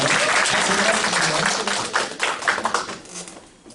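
A burst of audience applause, lively clapping from a room full of people that gradually thins out and fades toward the end.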